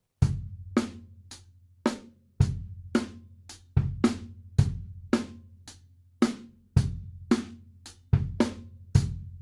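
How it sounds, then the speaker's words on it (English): A drum kit plays a steady groove of kick and snare hits with bright cymbal strikes, the pattern repeating in a two-bar cycle, loud and close. "there's a small variation of that kick drum, and that makes it into a 2-bar drum groove"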